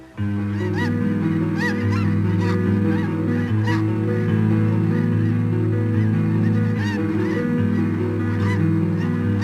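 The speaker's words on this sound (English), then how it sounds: "Snow geese arrive for the winter." A large flock of geese honking continuously, many overlapping calls forming a dense, loud clamor with no pauses.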